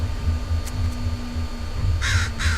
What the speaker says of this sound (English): Is that the crow?